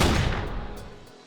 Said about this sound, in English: Modern Warfare's 50 cal sounds like this.